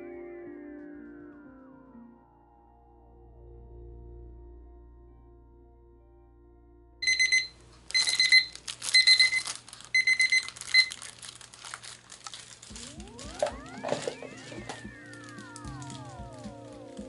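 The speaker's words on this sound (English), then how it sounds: "So we're going to turn our timer on for 5 minutes." Kitchen timer alarm going off after five minutes of mixing resin, bursts of sharp high beeps in clustered runs midway, amid crinkling and shifting background tones.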